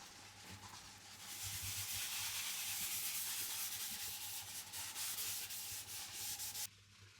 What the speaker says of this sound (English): I'm applying this with a stockinette cloth, then buffing up to a final finish a few hours later.